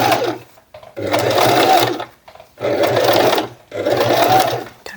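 Sewing machine stitching a tote bag, running in three sustained bursts of steady whirring with short quiet pauses between them, close and fairly loud.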